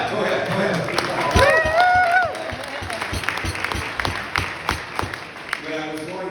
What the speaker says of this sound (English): Oh, you can clap. Go ahead.